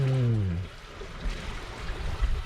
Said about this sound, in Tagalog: Ito yung suka. Buhos ko to?